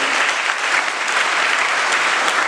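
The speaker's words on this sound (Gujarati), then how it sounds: "એમને આપણે તાળીઓથી વધાવી દીધી." Dense, continuous applause from a crowd at a school farewell and felicitation ceremony for class 10 and 12 students, bright and steady throughout with no talking.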